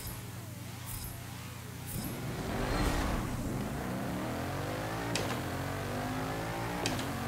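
In the Forza Motorsport 7 racing game, a Bugatti Chiron launches from a standing start, its engine note rising in sweeping pitch through gear changes with sharp shift bursts, moderately loud and free of speech.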